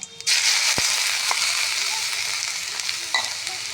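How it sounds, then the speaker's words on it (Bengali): Radish pieces fry in hot oil with nigella seeds, a steady loud sizzle that starts sharply and holds throughout, broken by a few scraping stirs and small pops. "তেল গরম হয়ে গেছে, কালো জিরে ফোড়ন দিচ্ছি। এবার মূলোগুলো আগে ভেজে নেব।"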